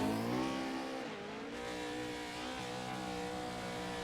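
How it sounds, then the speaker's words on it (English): A dirt-track race car engine revs through a corner at a Bark River dirt series race, a sustained buzzing roar whose pitch dips and climbs again as it works around, fairly distant and unbroken. "you're going to listen to that motor and watch them just kind of work around the corner"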